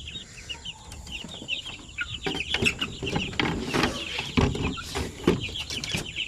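Native chicks from Basilan cluck and peep steadily in a hot poultry pen, with overlapping high chirps and soft clucks close by, plus some shuffling and tapping noises.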